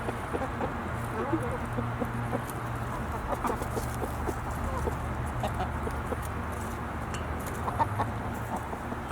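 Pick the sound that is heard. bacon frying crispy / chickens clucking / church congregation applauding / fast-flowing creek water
chickens clucking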